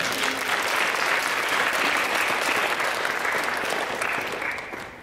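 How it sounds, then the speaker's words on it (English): Sustained applause from a seated audience after a musical performance at a talk by a retired clergyman, a dense steady wash of clapping that holds loud throughout and starts to fade in the final second. "Let's have another round of applause."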